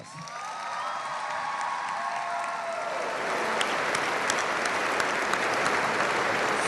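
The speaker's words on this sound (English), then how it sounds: "Let's give her a round of applause." Audience applause for a retiring high school principal at a graduation ceremony, steady dense clapping that swells and holds loud for several seconds, with a few faint cheers on top.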